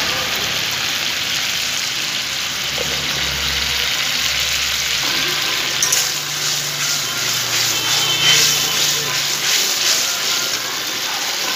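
Spice paste with salt and turmeric sizzling in a pan over a medium gas flame, a steady close hiss and crackle running continuously with occasional stirring scrapes, no voices.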